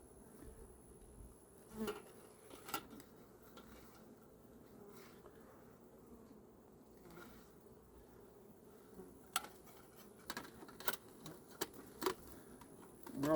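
Honey bees buzzing faintly around an open hive during a mid-October colony inspection, a low steady hum with occasional nearby clicks and handling knocks.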